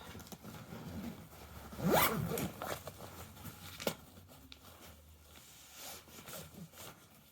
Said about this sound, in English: Let's just zip it up.